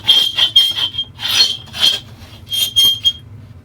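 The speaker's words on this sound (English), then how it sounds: "I'll start out with a red abrasive disc" A red abrasive disc sands a surface in a series of short, close scraping passes with a gritty rasping tone and brief gaps between strokes.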